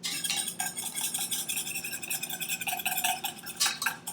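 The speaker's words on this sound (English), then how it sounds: "Whisk in a teaspoon of vanilla. Start whisking." A whisk works vanilla into a pumpkin donut glaze in a bowl, giving a quick, continuous clatter of wire against the bowl in uneven rhythmic strokes, close but fairly quiet, with no talking.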